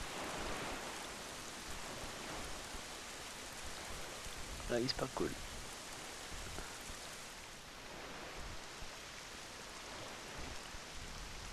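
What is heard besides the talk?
rain in The Legend of Zelda: The Wind Waker HD video game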